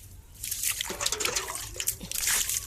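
Water splashes and trickles as it is poured over a small pet's feet, irregular dripping and sloshing close by with no voices.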